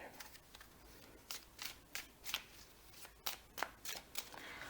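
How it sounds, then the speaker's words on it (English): A deck of tarot cards is shuffled by hand with repeated soft riffling bursts and light flutters, quiet and close. No one speaks. "Let's shuffle once again and see if these come out again"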